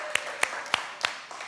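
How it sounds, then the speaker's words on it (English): Audience clapping for a church or event tech team: four or five sharp, evenly spaced claps stand out over a dense, steady wash of applause. "can we give a round of applause to our tech team? Seriously, come on, clap it up"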